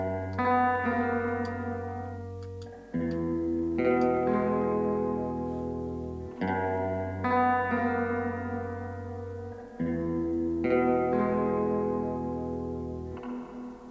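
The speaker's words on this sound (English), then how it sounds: "let's switch on the spring reverb." Spring reverb applied to a sustained melodic instrument, with long held chordal notes changing every few seconds and a smooth metallic tail smearing each one into the next; no voices, moderately loud and steady.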